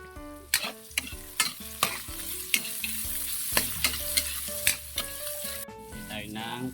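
Garlic, onion and tomato sauté in hot oil with a bright sizzle and repeated sharp stirring clacks of a spatula against the pan, heard under loud tuneful background music.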